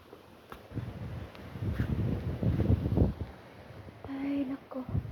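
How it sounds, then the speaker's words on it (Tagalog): Strong gusty wind blows outdoors, rumbling and buffeting against the microphone in surges, with a voice speaking briefly near the end. "Grabe ang hangin dito mga babae."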